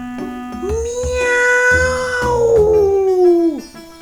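A single long, drawn-out cat meow, loud and close, rising and then sliding down at the end, with soft low sounds beneath it.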